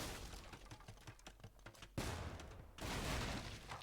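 Bombard cannons fire in Age of Empires II, a Sicilians versus Burgundians match on Ghost Lake, as a faint, dense crackle of game battle noise with a louder burst of blasts near the end.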